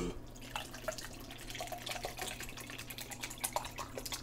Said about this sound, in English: it's very crucial when we're pouring water